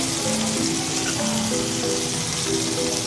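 Pork belly samgyeopsal sizzling loudly on a grill at a Korean barbecue restaurant in Kuwait, a dense continuous crackle with faint background music tones underneath.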